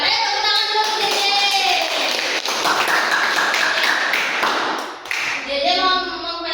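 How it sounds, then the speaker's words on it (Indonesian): Children in a classroom clap together for a classmate, a dense, steady burst of applause lasting several seconds, close and loud, with a teacher's voice over it. "Ayo tepuk tangan dulu untuk Dede."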